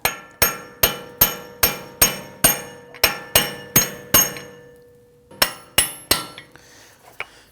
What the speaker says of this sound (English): Then we're going to use a brass punch here.